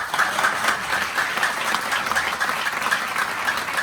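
Worship congregation clapping together, a dense, steady wash of many hands sustained throughout at moderate loudness, with faint voices mixed in.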